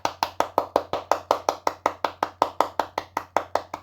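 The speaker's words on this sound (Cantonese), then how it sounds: "眾人拍掌" Gathered listeners at a Cantonese Buddhist teaching session clap in steady unison, about four crisp claps per second, even and close, with no talk.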